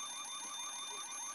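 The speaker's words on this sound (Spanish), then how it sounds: "Ahora toca el timbre, toca el timbre de la alarma." An electric alarm bell rings steadily inside a lift, a continuous high jangling tone with a rapid pulsing rhythm, heard clearly and alone for the whole moment.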